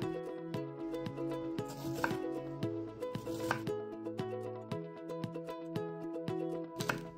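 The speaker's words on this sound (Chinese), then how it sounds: "洋葱切成片，" A knife slices onions on a cutting board in a home kitchen, a quick series of crisp chopping taps close up, heard over a soft music background with no talking.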